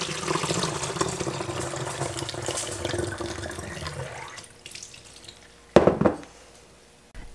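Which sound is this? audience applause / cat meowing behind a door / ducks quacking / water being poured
water being poured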